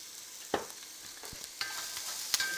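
Ground spices, including dune pepper crushed in a mortar, stirred briefly in hot oil on a stovetop burner, a soft steady sizzle broken by a few sharp scraping clicks of the utensil against the pan.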